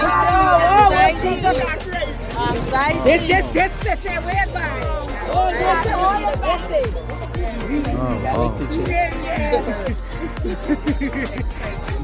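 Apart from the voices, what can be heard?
welcoming crowd gathered outside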